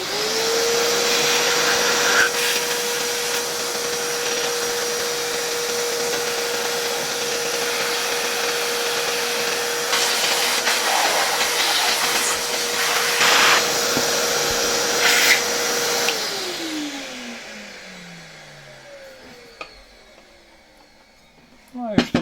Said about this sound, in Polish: wziąłem teraz odkurzacz, pędzelek i spróbuję trochę lepiej ten silnik wyczyścić